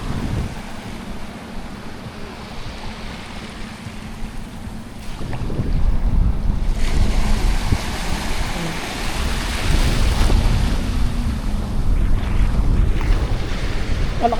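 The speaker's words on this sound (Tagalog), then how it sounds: "Malaki alon na." Large sea waves roll and break offshore near a boat in a rural coastal province, a steady wash of surf and wind noise that swells louder midway and stays strong, with no talk over it.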